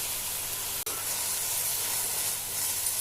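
Fenugreek leaves sauté in a hot pan for a curry, giving a steady close sizzle and hiss of frying with a brief drop out near the start, no talking.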